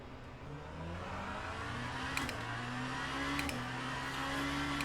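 A Genesis hypercar in the Le Mans Ultimate racing game accelerates out of the pits, its engine note climbing steadily in a smooth, continuous whine with gear shifts, moderately loud and alone.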